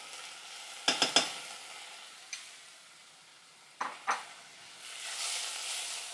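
Canned chopped tomatoes hit a hot pan on high heat, with clanks and scraping as they are added and stirred, then a soft, steady sizzle rising under the stirring.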